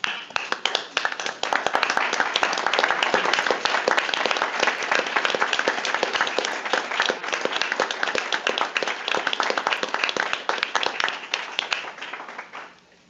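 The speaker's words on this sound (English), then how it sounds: "I'd just like to stand and give Jan a round of applause" Sustained audience applause at a utility commission meeting, dense steady clapping from a full room lasting about twelve seconds before tapering off abruptly at the end, with no talking.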